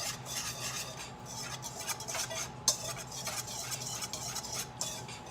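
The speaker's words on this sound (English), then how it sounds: "So we're just gonna whisk these together." A whisk stirs almond flour batter in a bowl, giving rapid rhythmic scraping and clinking strokes against the sides with a couple of sharper knocks, close and alone without talk.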